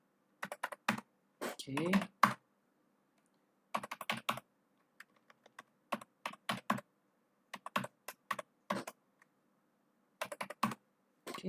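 Quick bursts of close computer keyboard typing enter a password and commands on a networking lab setup, with irregular pauses between the clusters of keystrokes and a brief spoken word.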